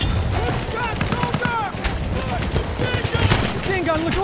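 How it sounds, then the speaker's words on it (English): An enemy machine gun fires in a Battlefield 1 battle. Bursts crackle continuously amid a loud, dense din of gunfire and explosions, with voices talking over it. "That's an enemy machine gun."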